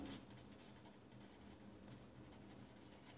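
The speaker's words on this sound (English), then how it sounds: "So I'll write the statement down." A pen scratches across paper, very faint and close, a soft, continuous scribbling with light strokes and no voices.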